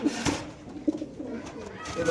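A female racer pigeon coos softly, a few low purring calls heard close by beneath someone talking.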